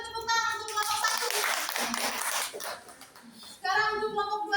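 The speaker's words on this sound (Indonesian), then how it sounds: "Beri tepuk tangan untuk kelompok satu." Students in a class clap briefly for group one in a scattered, moderately loud burst, with children's voices talking before and after.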